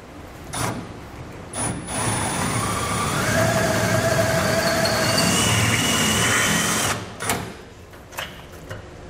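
A loud, sustained half-inch drill bit whine grinds into a steel trailer hitch for several seconds, bracketed by short bursts of the tool starting and stopping.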